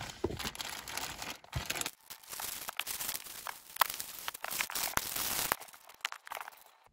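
Plastic packaging around a Banpresto Glitter & Glamours Charlotte Pudding figure being cut open and unwrapped, heard as close crinkling and tearing with sharp snips and rustles in irregular bursts separated by short pauses.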